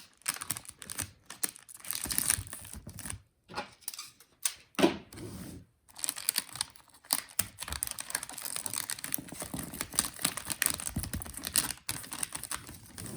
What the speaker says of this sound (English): Tape, tape, tape.